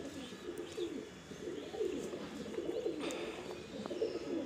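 Madrasi pigeons of the Arshad and Dasu breed coo softly and repeatedly nearby, their low, rounded calls rising over a faint background hiss.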